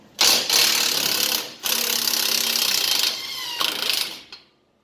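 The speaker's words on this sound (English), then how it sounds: "I've got my ratchet over on the other 19mm bolt" A ratchet loosens a 19mm strut bolt on a 2008 Nissan Armada, sounding as rapid clicking bursts in three bouts separated by brief pauses, close and fairly loud.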